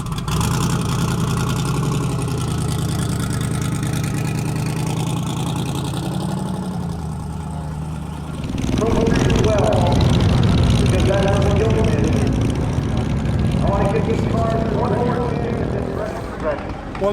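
A turbocharged 1957 Chevy wagon drag car with an LS engine idles in the staging lanes at a drag strip, a steady low rumble that later grows rougher and louder, with people talking over it throughout.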